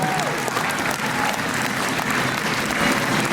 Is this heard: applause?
yes